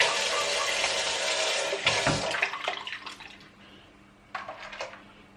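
Running cold tap water splashes into a container as it is rinsed, loud at first, then tapering off into softer trickles and a final brief gush.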